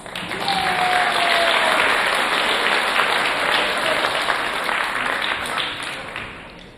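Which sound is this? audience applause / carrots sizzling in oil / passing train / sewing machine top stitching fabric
audience applause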